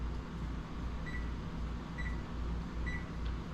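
A kitchen timer gives three short, evenly spaced beeps about a second apart over a steady low kitchen hum, with no one speaking.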